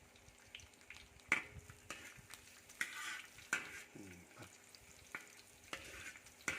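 Garlic fries in boiling hot oil, crackling and sizzling while a utensil repeatedly stirs and scrapes against the pan in quick, uneven clatters.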